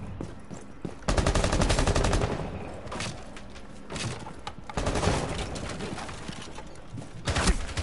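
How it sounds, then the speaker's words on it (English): Rainbow Six Siege match with a flashbang thrown: dense bursts of in-game gunfire and sharp bangs crowd the mix, loud and continuous with brief lulls between volleys. "Throwing flashbang!"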